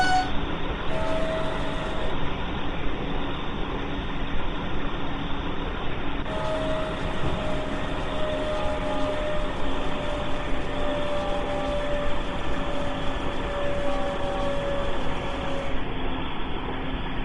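Train engine noise from the Train Sim World 2 video game: a steady, loud mechanical drone with a faint whine rising in pitch, continuous throughout with no talk.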